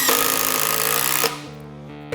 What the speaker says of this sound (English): Let's drive some longer drywall fasteners